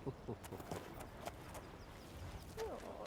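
Horse hooves clip-clopping on hard ground, irregular quiet knocks at a walking pace, with a few brief voices and faint background sounds.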